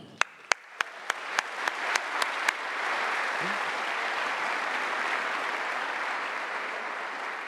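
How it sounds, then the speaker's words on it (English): Eight or nine slow, evenly spaced claps build into a full round of applause from a large audience at the PyConDE & PyData 2025 conference opening session, carrying on steadily to the end. "So let's give a big round of applause to our sponsors."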